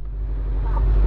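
Honda CB400 motorcycle climbing a rough mountain road in Ifugao, its steady engine drone rising slightly over a second with low rumble and faint road noise.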